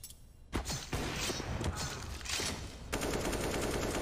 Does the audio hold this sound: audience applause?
no